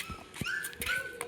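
Newborn street puppies, just born to a stray female dog, give several thin high whimpers and yips in quick succession, faint and close.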